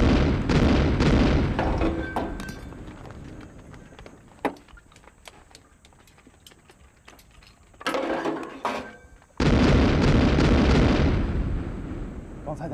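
Heavy artillery guns fire and shells explode in a war film set during the anti-Japanese war, with loud rumbling booms arriving in dense bursts separated by quieter stretches and voices in between.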